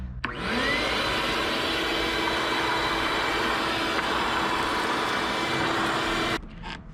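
A Ridgid 12-gallon shop vacuum switches on and runs with a loud, steady whining roar that holds level for about six seconds, then cuts off abruptly.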